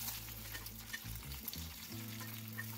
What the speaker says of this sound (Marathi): आता भेंडी घालून घेऊया त्याच्यामध्ये।